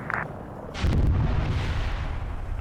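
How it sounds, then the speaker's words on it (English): Deep rumbling airstrike explosions from a video game battlefield, with a sharp crack near the start and heavy low booms that roll on continuously, loud and close, with no talking. "That's a delayed airstrike."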